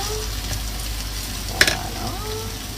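Carrots go into a hot pan and fry with a continuous soft sizzle, marked by one sharp clatter as they land and some stirring noise, close and moderately quiet.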